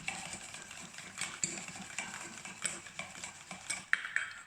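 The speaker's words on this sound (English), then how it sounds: "till the time what we'll do, we'll whisk the egg yolk" Egg yolks whisked in a bowl for a soufflé, a steady rapid scraping and clinking of whisk against the bowl with sharper metallic taps standing out near the end, close and fairly quiet.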